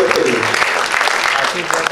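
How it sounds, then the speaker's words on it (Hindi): An audience at a media awards event bursts into dense, loud applause that stays strong throughout the short moment, with voices and cheering mixed in. "तो जोरदार ताली हो जाए अपने खुद के लिए"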